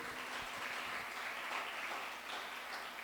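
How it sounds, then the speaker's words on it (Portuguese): A church congregation applauds at a Sunday service, a steady wash of clapping from many hands at moderate distance, held level for a few seconds. "Pode aplaudir ao Senhor."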